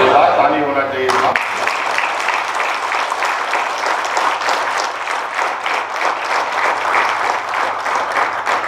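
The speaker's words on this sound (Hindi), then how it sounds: "ताली होना चाहिए था।" Sustained audience applause at a ceremony where appointment letters are handed to district sports officers in Ranchi, a dense steady patter of many hands clapping, starting abruptly after a brief voice and continuing loudly throughout.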